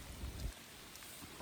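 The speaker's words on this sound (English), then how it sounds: "So we're definitely getting rained on right here." Steady rain falls on a mountain trail in the high Sierra, a dense close hiss of drops without talk, with a brief low rumble of wind or handling at the start.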